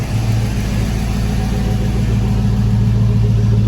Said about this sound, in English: I like that sound. Got a good rumble to it.